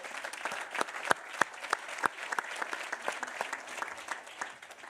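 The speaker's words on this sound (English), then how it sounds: "I think we all applaud you" A room of people applauding steadily, with sharper individual claps standing out against the dense wash, moderately loud and fading slightly toward the end.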